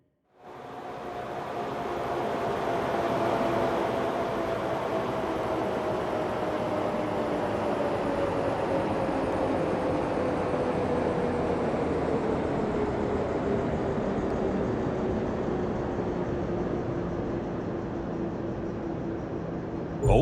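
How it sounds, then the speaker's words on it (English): Train approaching in a railway video game, a continuous rumbling drone with a slowly falling tonal hum, steady and fairly loud throughout, with no talk over it. "Sounds like we've got a train approaching."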